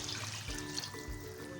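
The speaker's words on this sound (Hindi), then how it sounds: "अब हम इसमें पानी ऐड करेंगे।" Water is poured into fried masala in a cooking pot for chicken nihari, making a close, steady trickling splash over a low background hum.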